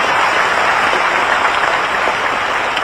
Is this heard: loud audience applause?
yes